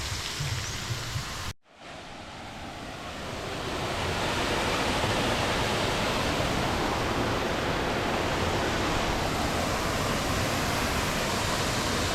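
A steady, dense roar of a jungle waterfall on Koh Samui that swells and holds constant after a brief dip near the start.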